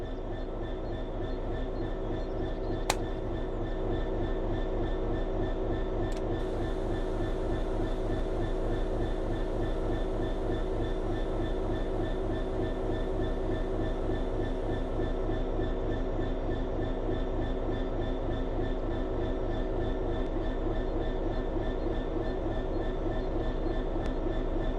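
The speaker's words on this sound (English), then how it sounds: "Apply some throttle to get the train moving." A diesel locomotive in Train Sim World 5 drones steadily with a rhythmic pulsing engine throb as throttle is applied, a constant loud rumble with a sharp click early on and no talking.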